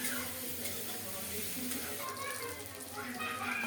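Rohu fish pieces fry in hot oil in a pan on a stove, giving a steady, dense sizzle that carries on without a break from start to end, close by and fairly loud.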